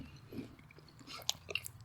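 Quiet close-up crunching of food being chewed while tasting dill pickle hot sauce, a few sharp crisp bites standing out over near silence.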